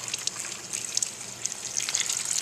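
Water runs and trickles while rinsing filter media from a classroom trout tank, a steady bright splashing stream with small irregular spatters, close up and without talk.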